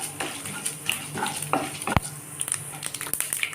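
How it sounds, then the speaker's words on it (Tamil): Chana dal and urad dal roast dry in a pan, a close scratchy rustle of a spatula stirring the lentils in quick strokes with light crackling and one sharp clack against the pan. "கடலைப்பருப்பையும் உளுந்தம்பருப்பையும் வந்து கருக விடாமல் வந்து நல்ல ஒரு மெரூன் கலரில் மாறுற அளவுக்கு மட்டும் வறுத்துக்கலாம்"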